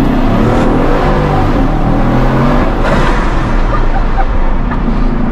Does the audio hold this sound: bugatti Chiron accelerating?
yes